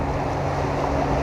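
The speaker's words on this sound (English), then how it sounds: "there's water right here in the ocean, making this beautiful sound" Ocean water washing in a steady broadband rush, near and fairly loud, mixed with low wind rumble and no voices.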